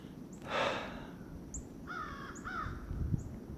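Crow cawing outdoors, a few harsh caws in quick succession, moderately near, over a steady background of low rumble and faint higher bird chirps.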